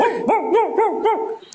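A voice imitating a dog barking: four quick, evenly spaced yelping barks in a bouncy rhythm, close and loud, tailing off into quiet at the end.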